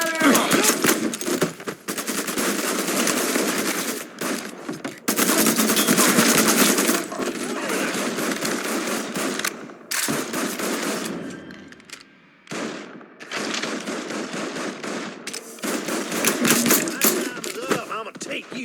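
Sustained automatic gunfire in Mafia III Definitive Edition: loud bursts of rapid shots with brief gaps, mixed with shouted in-game voices.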